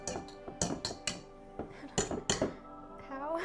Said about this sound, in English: So go ahead and tap that whisk.